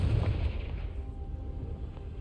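Confringo fire spell cast in the Hogwarts Legacy video game, a deep booming burst at the start that rumbles and fades out over a couple of seconds, no voices.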